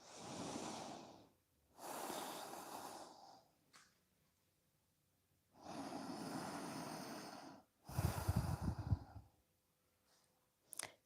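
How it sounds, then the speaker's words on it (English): Slow breaths drawn in and out through the nose during a yoga session, several long, steady inhale and exhale bursts separated by quiet pauses, close and fairly soft, ending with a short sharp sniff. "Breathing through your nose."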